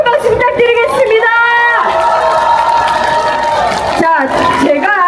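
A crowd at an outdoor political rally in Busan applauds and cheers loudly, voices shouting and whooping over the clapping in a dense, continuous roar.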